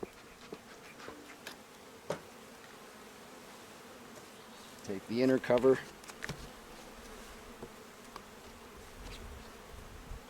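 Low honey bee buzzing hums faintly throughout at an open hive, swelling into a louder, closer burst of buzzing midway, while a person speaks briefly.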